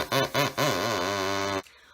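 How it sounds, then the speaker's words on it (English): A homemade drinking-straw double reed lengthened with an extra straw gives a buzzy, reedy tone: three short wavering blasts, then a longer held note that stops abruptly, close and alone. "you can add another straw to the bottom to make a lower sound."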